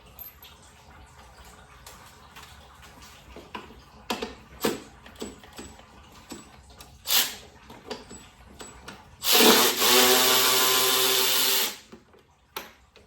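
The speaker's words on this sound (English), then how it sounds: "We're gonna switch over to a 10mm. And pull these bolts out." A 10mm socket working bolts loose on a 1998 Subaru EJ22 engine: scattered metallic clicks and knocks, then a loud, steady burst of a power driver spinning for about two seconds before fading back to light tool handling.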